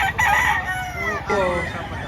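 A rooster at a Saturday-morning chicken market behind a mall in Lipa, Batangas, crows loudly close by in one long wavering call, with market chatter faintly beneath.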